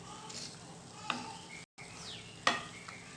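Grated coconut is stirred and sautéed in a pan, a soft low sizzle with a couple of distinct scraping stirs and a brief cut to silence midway.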